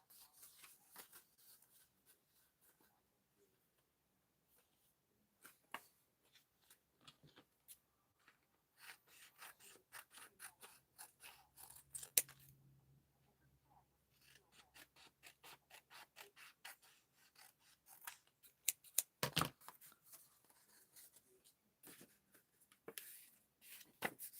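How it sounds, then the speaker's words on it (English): Scissors snipping and rubbing through craft material for a Christmas drum ornament, quiet close crisp cuts in irregular bursts with pauses between them. "I'm going to cut one more piece"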